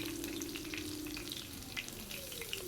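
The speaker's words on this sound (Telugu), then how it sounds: "ఇప్పుడు నేను అల్లం వేశాను అల్లం తురుము కూడా కాసేపు వేగిన తర్వాత పచ్చిమిరపకాయలు వేస్తాను" Grated ginger frying in hot oil for a Telugu raw banana upma curry, giving a soft, steady sizzle with faint stirring scrapes, quiet and close.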